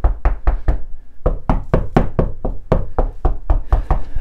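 Knuckles rapping on a drywall wall in search of a stud, a close, sharp series of about fifteen knocks in quick rhythmic bursts with a brief pause after the first few.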